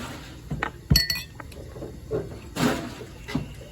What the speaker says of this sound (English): so we are gonna shake the martini and shake the shooter.